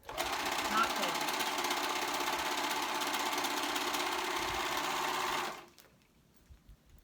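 A sewing machine runs one continuous close seam for about five seconds up the side of a ruched tee, a dense steady whir that stops abruptly, followed by faint handling sounds.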